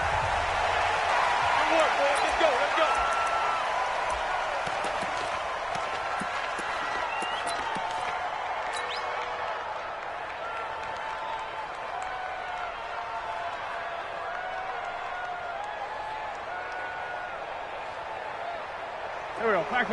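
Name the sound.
raucous crowd in a video game football stadium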